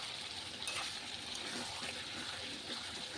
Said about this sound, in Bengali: আমি এবার নাড়াচাড়া দিয়ে দিচ্ছি